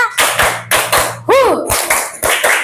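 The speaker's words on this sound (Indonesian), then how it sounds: "Tepuk 2. Tepuk 3. Tepuk 1, 2, 3." A classroom of students claps together in a counted rhythmic pattern, sharp loud group claps arriving in short bursts and groups, with a brief rising vocal cry in the middle.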